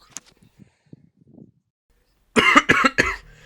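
A person coughs three times in quick succession, loud and close, after a stretch of near silence broken only by faint small noises.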